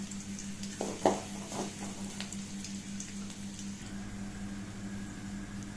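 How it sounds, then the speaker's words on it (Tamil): Garlic sautéing in a pan with green chillies for an egg curry: a soft, steady sizzle with a few light stirring taps near the start, fairly quiet, with no talking. "அடுத்து வெள்ளைப்பூடு ஆட் பண்ணுறேன் அதையும் நல்லா வதக்கிடுங்க"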